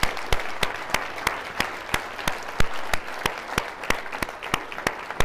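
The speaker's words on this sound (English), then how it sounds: "let's have a round of applause for everybody who just put their paddles up." A room of donors at a live charity fundraising auction for a Massachusetts school gives a round of applause, with sparse, distinct hand claps in an uneven rhythm over a soft crowd murmur, fairly close and moderately loud.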